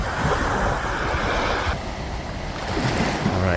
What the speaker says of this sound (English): Oh, that was a big wave.